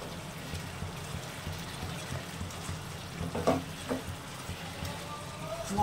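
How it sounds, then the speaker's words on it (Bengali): Bhetki fish bones being fried with potato and spices in a pan, a soft, continuous sizzle with occasional scraping stirs and small louder clicks, fairly quiet and steady. "এবারে ভেটকি মাছের কাঁটাগুলো দিয়ে একটু কষিয়ে নেব।"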